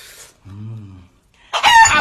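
Chicken sounds from an edited meme clip, with a short low squawk or cluck followed by a loud, harsh burst of crowing or frantic clucking.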